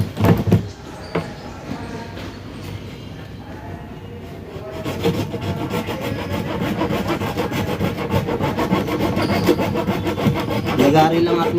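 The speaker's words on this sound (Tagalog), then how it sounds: "Lagari lang ating gagamitin mga idol" A handsaw cuts through wood in steady rhythmic strokes, faint at first and then louder and faster, close by with no voices over it.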